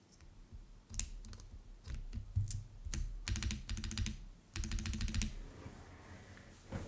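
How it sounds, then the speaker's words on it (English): Keycaps are pressed and clicked onto a mechanical keyboard during a build, giving a close series of irregular clacks and clicks in quick clusters, with no talking. "For that, I'm gonna put some keycaps on."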